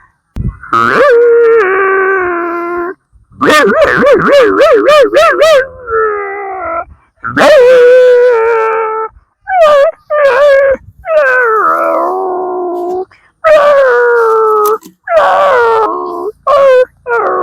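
A voice imitates a hungry dog crying: loud, drawn-out whines and howls repeated with short pauses, close and with no other sound.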